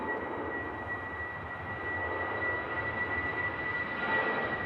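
A Eurowings airliner takes off bound for Dusseldorf, a steady distant engine roar rising slightly in loudness, heard alone without talk.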